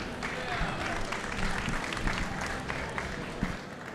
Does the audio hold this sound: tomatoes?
no